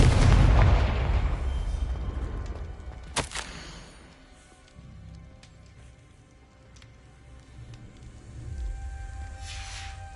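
Confringo explosive spell cast in the game Hogwarts Legacy: a loud booming blast that decays into crackling debris and rumble, followed by a sharp secondary crack and softer scattered patter.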